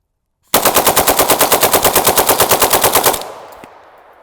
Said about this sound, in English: this is how a bumpfire stock works. Every time I pull the trigger, I have to pull forward, and my support arm is what's resetting the trigger